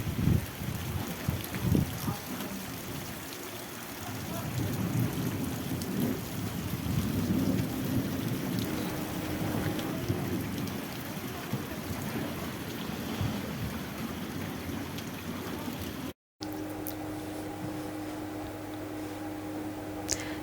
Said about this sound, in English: Whoa! Hailstorm at Lai village.